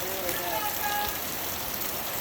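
Heavy rain falls steadily, a dense hiss of drops close by with no pauses, and voices talk faintly under it.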